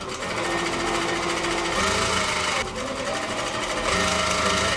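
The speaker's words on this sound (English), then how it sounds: "you just follow the markings and stitch at the bottom of the ribbon" A sewing machine stitches ribbon onto a pair of bloomers, running as a loud, steady, continuous whir close by without pause.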